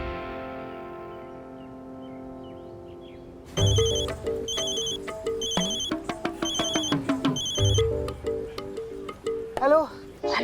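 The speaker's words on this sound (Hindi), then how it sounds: "फोन करती हूँ" A telephone rings in a repeating electronic ringtone pattern, several bursts in a row, with a voice and background sounds mixed in beneath it.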